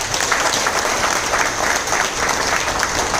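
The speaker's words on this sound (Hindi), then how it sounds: "उनके लिए जोरदार तालियां।" Loud, dense audience applause welcoming a guest at a business talk, vigorous continuous clapping from a large crowd, steady and close with no voices.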